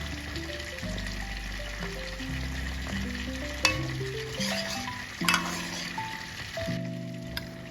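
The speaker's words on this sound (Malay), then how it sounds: "Okey, kita masak kuah biar ikan masin lembut sedikit." Salted fish and pineapple curry broth simmering in a pot, a steady close sizzle and bubbling with occasional clinks, under stepped background music and no talking.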